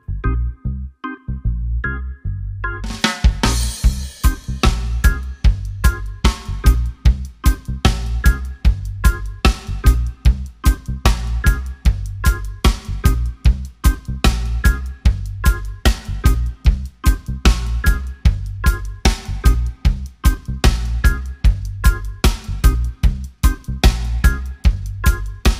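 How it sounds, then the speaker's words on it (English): Reggae steppers drum groove on a kit: steady four-on-the-floor kick with backbeat and driving eighth-note hi-hat with offbeat accents, loud and close, repeating evenly throughout after a few opening hits. "The steppers in its basic form sounds like this."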